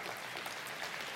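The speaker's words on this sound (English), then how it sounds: "Yeah, you can clap for that." Steady, dense applause from a large audience at a talk, sustained and even throughout with no voices over it.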